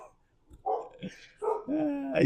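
A dog barks a few times at middle distance, short yaps and a drawn-out whining bark, with speech nearby.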